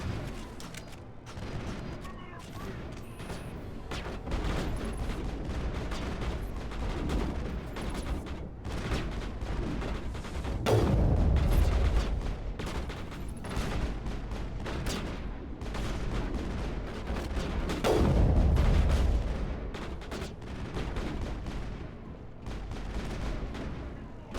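Gunfire rings out in a Mass Effect firefight, sharp shots crackling steadily with two heavier, booming bursts standing out, all loud and close with no talking.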